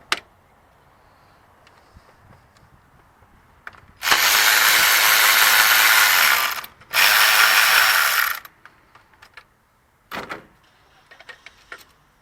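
A ratchet with a shallow socket spins loose bolts on a Toyota Corolla alternator bracket in two long, loud, continuous buzzing runs of rapid clicks, split by a short pause, with faint tool handling before and after.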